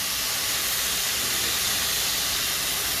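Beef bulgogi sizzles steadily in a hot cast iron pan, a loud, continuous broadband hiss with no voices over it.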